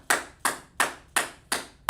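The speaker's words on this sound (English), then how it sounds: "let's clap it up for him" Hands clap six times at an even, slow rhythm, crisp and fairly close, as a class claps in applause.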